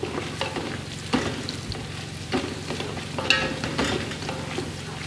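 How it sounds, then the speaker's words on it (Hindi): Onions sizzling in hot oil in a pot for chicken pulao, a steady frying hiss with periodic scrapes and clinks of a spoon stirring, close and alone. "ये नाज़रीन प्याज हो रहे हैं, इसको हल्का ब्राउन करना है।"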